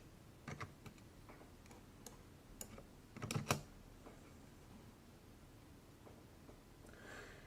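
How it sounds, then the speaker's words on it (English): Scattered keystrokes on a computer keyboard, faint and intermittent, with a short quick cluster of taps midway through. "hit the delete button on your keyboard, and then write the amount you wish"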